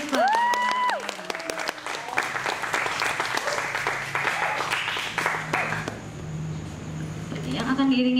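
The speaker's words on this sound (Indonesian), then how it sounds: "Langsung saja kita beri aplaus yang paling semangat untuk Bapak Rudolf Puspa" An audience at a monologue performance breaks into sustained clapping after an announcer's introduction, the applause swelling and fading over several seconds with a voice speaking at the start and a tone near the end.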